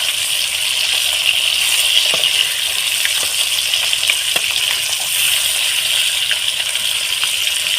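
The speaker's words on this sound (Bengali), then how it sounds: "মাছগুলো সব আমি আর একটু ভালোভাবে ভেজে নেব" Pieces of katla fish from a pond fry in hot oil, giving a loud, steady sizzling hiss dotted with small crackles and pops throughout.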